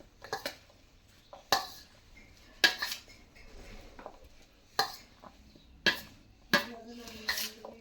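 A spoon clinks and scrapes against a bowl while fruit chaat with chickpeas is stirred, giving several sharp, irregular metallic taps spaced over a few seconds with soft mixing sounds between.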